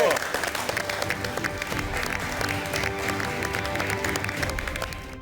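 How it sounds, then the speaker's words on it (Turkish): Sustained applause from a crowd on the MasterChef Türkiye cooking competition, dense clapping throughout at steady volume, with music playing underneath. "Bir kez daha alkışlayalım."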